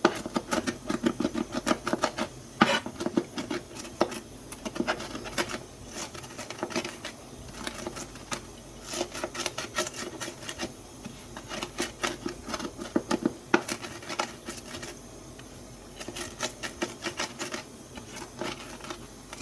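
Rapid clattering chops of a food chopper cutting green herbs for a green sauce, a busy rhythmic patter of blade strikes running continuously at close range with short pauses.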